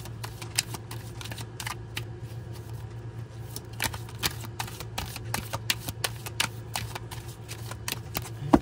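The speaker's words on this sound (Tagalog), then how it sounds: "Ayan, balasahin po natin maigi." A deck of playing cards shuffled close up, a steady run of crisp riffling snaps and flicks repeating throughout over a low constant hum.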